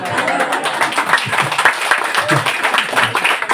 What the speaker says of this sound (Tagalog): Yung malakas na palakpak kay El Shaddai.